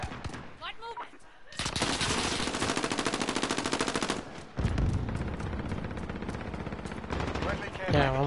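Gunfire in the video game Call of Duty Modern Warfare: after a quieter opening, long rapid automatic bursts rattle loudly for several seconds, pause briefly, then resume in another sustained burst.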